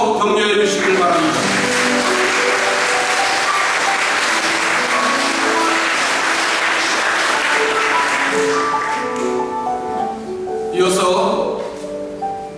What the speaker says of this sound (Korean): 뜨거운 박수로 격려해 주시길 바랍니다